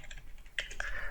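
Typing on a computer keyboard while entering SQLite commands, a short burst of close, quiet keystrokes with no talking.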